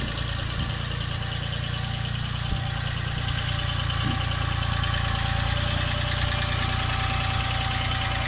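Tractor working at a house-building site, its engine idling in a steady, low rumbling drone with faint knocking, continuous and fairly close, with no talk.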